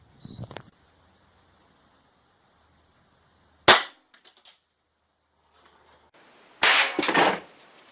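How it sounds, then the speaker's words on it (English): An antique Flobert parlor pistol fires a single sharp, small crack, close and brief, amid quiet handling clicks and rustles, followed by a short noisy burst of movement. "now we're going to try to actually shoot it"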